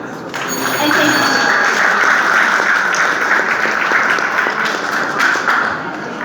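A school audience applauds a student's declamation speech, dense sustained clapping rising quickly and holding strong, close and lively for several seconds.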